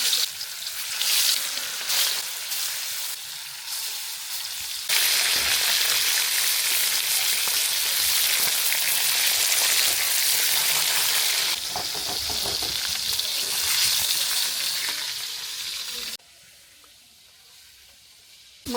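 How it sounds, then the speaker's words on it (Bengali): Fish frying in hot white cooking oil in a wok on a stove, cooked village style. A loud, steady, close sizzle runs almost throughout, then drops much quieter near the end. "তেল গরম হয়ে গেছে, এখন আমি মাছগুলো ভেজে নেব।"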